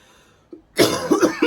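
A woman recovering from COVID coughs nearby, a short hacking burst of several rough coughs right after a brief intake of breath.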